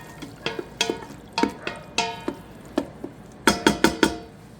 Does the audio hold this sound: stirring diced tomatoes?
yes